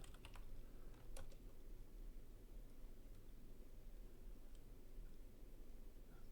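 Rapid clicks of keys on a computer keyboard as a name is typed, a quick flurry near the start that then thins to a few scattered taps over a low steady hum.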